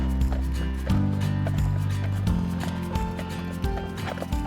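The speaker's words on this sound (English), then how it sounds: "these guys are our Belgian draft horses" Belgian draft horses on a farm step forward, hooves clip-clopping in an uneven rhythm close by, with a low steady hum underneath.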